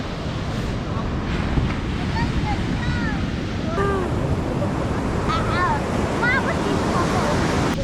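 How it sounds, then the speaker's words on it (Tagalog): Strong ocean waves pound the shore at Dingalan during typhoon season, a loud, constant roar of surf mixed with gusting wind buffeting the microphone. Faint bird chirps sound through it. "Ang lakas ng alon."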